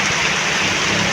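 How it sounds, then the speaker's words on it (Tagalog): Steady, dense rain pours down outdoors in a farming area with maize fields, a continuous loud hiss with no pauses and no voices. "Sus, ni ulan na jud in tawon."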